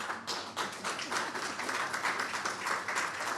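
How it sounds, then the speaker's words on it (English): An audience gives a speaker from the UN IDPAD UK another round of applause. The clapping is dense, steady and fairly quiet, with no voices over it. "I think she does deserve another round of applause."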